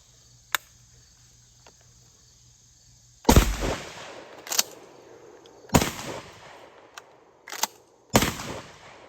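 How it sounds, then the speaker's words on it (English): A TS-12 horizontal magazine-fed shotgun fires birdshot on a range, with about five loud sharp blasts at irregular intervals and quiet gaps between them where magazine tubes are rotated, while insects chirp faintly throughout. "we're gonna shoot one, rotate it, shoot that tube, rotate it, and finish it out on the last tube"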